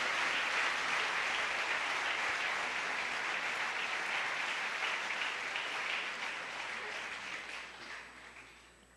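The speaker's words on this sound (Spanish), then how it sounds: "Le damos un aplauso." A church audience in Spanish-language worship gives sustained applause, steady and fairly even throughout, then fading gradually toward the end.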